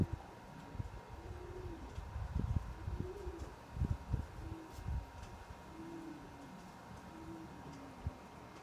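Pigeons coo in low, repeated throaty phrases from a nearby loft, several soft calls overlapping and spaced irregularly against a quiet background.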